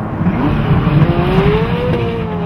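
Turbocharged Ferrari F40 supercar engine heard from inside the cabin, a loud steady rumble with a slowly rising note, close and continuous, with no talk over it.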